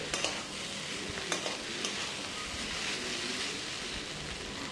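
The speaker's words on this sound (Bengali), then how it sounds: "দেখো চিচিঙ্গাটা প্রায় 10 থেকে বারো মিনিট এইভাবে ভাজতে ভাজতে অনেকটাই কমে এসছে" Snake gourd fries in a pan after about ten to twelve minutes of cooking, a steady close hissing sizzle with a few faint stirring taps and no talking.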